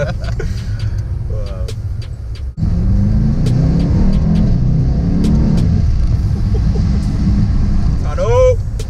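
A Mercedes-AMG E63 S engine roars up close as it downshifts, loud rumbling blips and revs through a tunnel; a voice exclaims briefly at the end.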